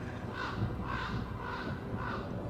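Crows caw in a steady series of four evenly spaced, hoarse calls, moderately loud over a dense background wash, heard during a Dragon Age podcast episode.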